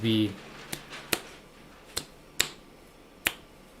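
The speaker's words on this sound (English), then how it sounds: "so you clap it like that." Sharp hand claps sound out a rhythm, five distinct hits with uneven spacing, close and clear after a brief voice at the start.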